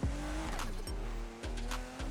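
Car racing down a highway in the video game Need for Speed Heat, its engine droning loud and steady while the revs climb and drop back repeatedly with gear changes, tire noise mixed in.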